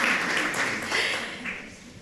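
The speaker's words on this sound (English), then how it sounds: "And you're allowed to applaud now if you want." A conference audience gives a short burst of applause, scattered clapping from many hands that stays moderately loud for about two seconds and thins slightly as it ends.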